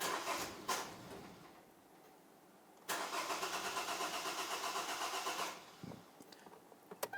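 A 2010-2013 Kia Soul cranks and starts after a fuel system purge, with several short cranking attempts followed by a sustained, fairly loud engine run that then cuts off, and small clicks afterward.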